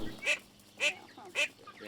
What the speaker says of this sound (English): She's quacking now.